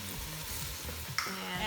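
Chunks of cabbage hit a hot soup pot with a close, crackling sizzle and some stirring scrapes, plus a brief metallic clink near the end as the frying swells.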